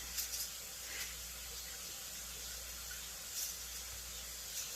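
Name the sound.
water running from a kitchen sink tap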